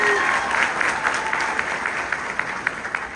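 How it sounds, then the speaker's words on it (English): An audience claps steadily after a call to honor a speaker, a dense wash of applause that slowly fades, with no talking over it. "Please give him a round of applause."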